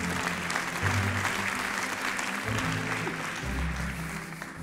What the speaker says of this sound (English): Can I have a big round of applause for Professor Dr.